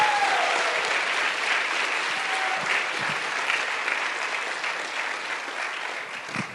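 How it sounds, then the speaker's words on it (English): An audience applauds for speaker Erin Clark at the Together Summit 2025, a dense, steady wash of clapping that stays loud throughout and eases slightly toward the end. "Big round of applause, Erin Clark."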